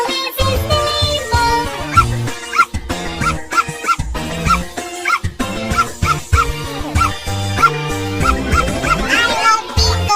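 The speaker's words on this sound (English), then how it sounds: "Oh, there is a dog in my house and Bingo is his name." Cartoon dog yipping and barking repeatedly in a bouncy children's song, the short yaps riding over a busy musical backing with singing voices.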